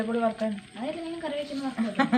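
Spice powder roasting and frying in a pan, a soft sizzle and stirring heard under a voice talking throughout.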